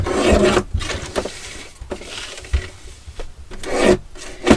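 Scissors cut through varnished toilet paper glazed with gloss medium, producing close, papery rasping crunches in several bursts with brief pauses between cuts.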